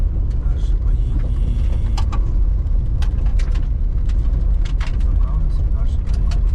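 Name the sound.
Toyota Land Cruiser 80 driving on the road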